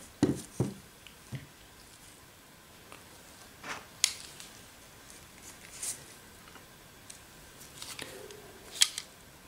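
Snips and clicks of cutters going through the plastic rivets on an HP 106A (W1106A) toner cartridge: sharp, separate cuts scattered at an irregular pace, close and fairly quiet with no talking.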